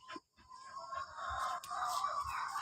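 Chickens at a mother's house make a faint, short stretch of clucking and fowl calls, distant and soft, heard alone without talk.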